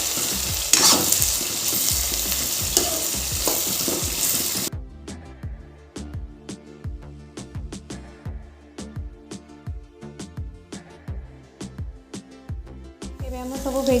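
Beetroot and mixed vegetables frying in a pan for veg chowmein, a steady sizzle with repeated sharp scraping and stirring strokes of a spoon, loud and close, with the sizzle fading after a few seconds and the rhythmic stirring continuing.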